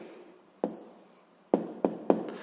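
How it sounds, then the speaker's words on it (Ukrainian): A pen writes an answer by hand on paper for a grade 7 physics exercise: a soft scratch, then a few sharp taps and strokes close by in a quiet room. "Отже, записуємо тоді відповідь."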